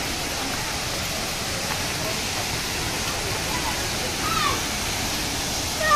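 Sanghagara waterfall in Keonjhar roars as a dense, unbroken rush of falling water, steady and loud throughout, with a voice faintly present beneath it.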